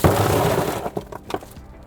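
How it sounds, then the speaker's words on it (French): Ice cubes pour and clatter into the front trunk of a Rivian R1T electric pickup, with a dense loud rush at first that thins into a few scattered clinks. "je vais remplir le coffre de glaçons"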